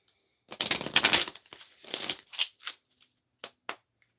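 A deck of tarot cards is shuffled close up, with several quick riffling bursts followed by shorter, softer flicks and taps, set against an otherwise quiet room.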